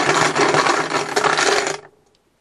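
Cards or chips being rummaged and picked out of a box during a hockey card box break, a dense rattling, shuffling clatter held close for under two seconds before stopping abruptly.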